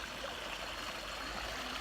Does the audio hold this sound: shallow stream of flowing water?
yes